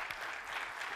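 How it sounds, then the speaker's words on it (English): Brief burst of audience applause at a business training seminar, a dense, moderately quiet patter of many hands clapping together. "Give him a round of applause for that."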